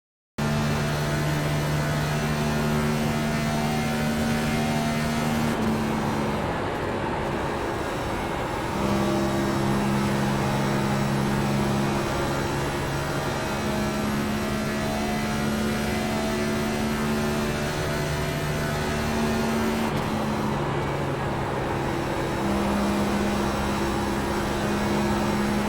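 A race car engine drones steadily through an iRacing lap at Kansas, a 1.5-mile oval, with sustained tonal pitch shifting slightly as the car moves through the turns, loud and continuous with no talking.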